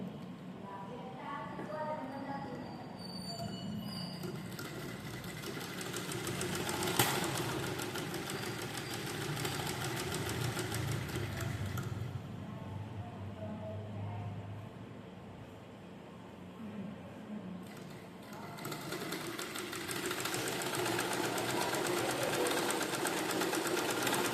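A sewing machine stitching a fabric strip with lace for a sleeve, a continuous whirring motor drone that rises and slows in bursts, close and fairly loud, with a voice talking at times.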